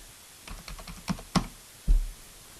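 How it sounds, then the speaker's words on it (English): Keys tapped on a computer keyboard while entering a phone number in desktop calling software: a quick run of close, crisp clicks ending in a couple of heavier strokes, with no one speaking. "Type your transfer number,"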